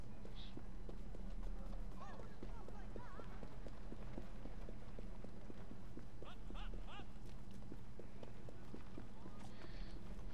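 Horses galloping on the streets in the video game Assassin's Creed Syndicate, a steady, fast clip-clop of hooves running continuously at close range beneath some talk and game sounds.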